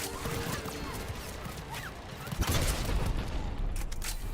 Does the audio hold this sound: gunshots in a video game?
yes